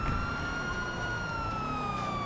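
Police car sirens wail in a police roleplay video game, a steady, loud siren tone with slowly falling pitch that runs the whole time over a low engine-like rumble.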